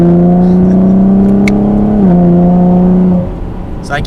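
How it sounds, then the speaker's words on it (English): A 2019 Chevrolet Camaro 1LT RS pulls hard in third gear with a loud, steady engine drone that climbs briefly in pitch, then drops off as the throttle lifts near the end. "Third gear, just going over a nice sharp turn."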